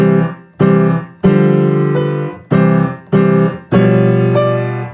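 Piano plays six heavy chords from Diabelli's Allegretto in C in a slow, uneven rhythm, each struck loudly and left to ring, with overpowering left-hand low notes dominating the sound.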